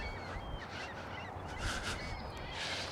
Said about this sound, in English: The gulls are very vocal this morning